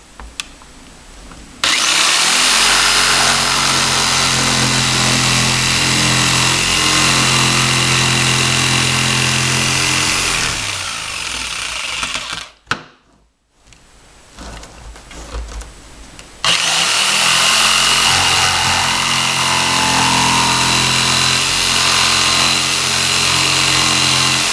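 A loud power tool whines steadily while cutting out training kusari-gama pieces, stops briefly in the middle, then starts again and runs continuously.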